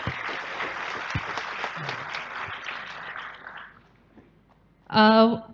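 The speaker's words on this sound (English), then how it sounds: "Can we give a big round of applause of Mikta?" Audience at a campus event applauding, a broad crackle of clapping that fades out over several seconds, followed by a short loud tonal sound at the end.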